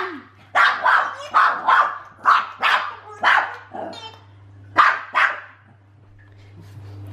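A dog barks indoors near a noisy toy, a run of about eight loud, close barks in quick rhythm, then a pause and a couple more, with a low steady hum underneath.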